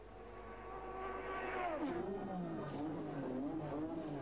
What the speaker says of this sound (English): Niki will pull out of this line and go into the pits for his first stop